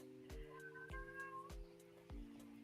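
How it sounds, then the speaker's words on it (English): A cat meows several times in a steady rhythm, about four short calls spaced roughly half a second apart, heard clearly over a faint background hum. "Is that a cat?"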